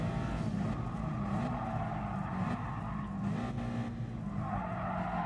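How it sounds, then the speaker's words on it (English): Car engine in Gran Turismo Sport easing off and braking into a bend, a continuous close engine drone with faint tyre scrub and shifting pitch, no voices. "this is the bend where I need to start braking a little bit earlier"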